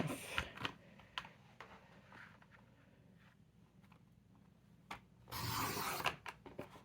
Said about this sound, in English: So I'm just gonna cut that little piece off.